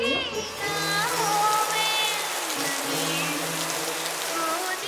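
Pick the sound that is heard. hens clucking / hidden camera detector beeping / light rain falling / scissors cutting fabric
light rain falling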